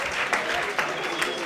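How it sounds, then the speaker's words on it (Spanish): A lecture audience applauds an Austrian-school economist, continuous mixed clapping at moderate volume with a few sharper claps standing out, under faint voices. "vamos a dar un aplauso"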